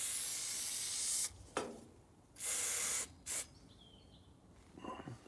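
Two loud hissing bursts from an aerosol can of trim adhesive on a Ferrari 348, each lasting about a second, with quieter pauses and faint rustling between them.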